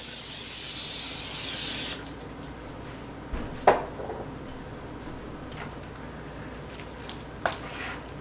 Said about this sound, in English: Spray it so it doesn't stick.